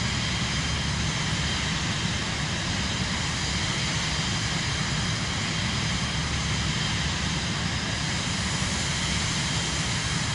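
An Airbus airliner in flight in Microsoft Flight Simulator 2024 on PS5 gives a steady, loud, unbroken jet engine roar and cabin rumble that fills the whole stretch, with no voices.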